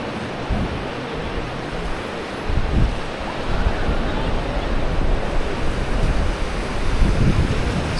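Ocean surf rolls and breaks steadily along a beach in Florianópolis, a loud, continuous wash of waves with wind buffeting the microphone and swells cresting a few times throughout.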